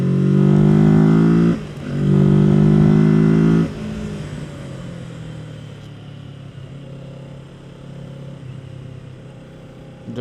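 Kawasaki Z650 motorcycle heard from the rider's seat on an open road, its engine revving loud and rising through two strong pulls, then dropping to a steady lower drone under rushing wind.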